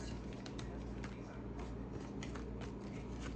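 Tarot cards are handled and pulled from a deck, giving soft snapping and papery rustles up close over a steady background hiss, with no talking.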